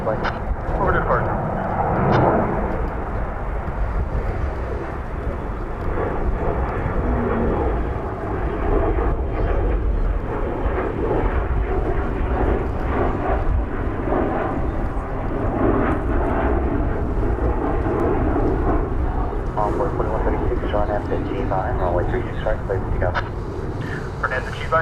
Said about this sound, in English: Comes an American, I think it's a 737 going to Seattle.